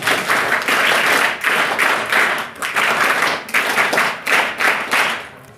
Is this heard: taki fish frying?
no